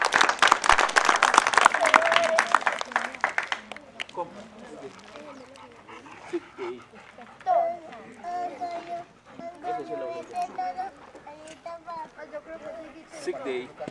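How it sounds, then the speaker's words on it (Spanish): A burst of crowd applause at an outdoor canine show lasts about four seconds and then gives way to talking, children's voices and general crowd chatter. "Y le damos un fuerte aplauso a Pira"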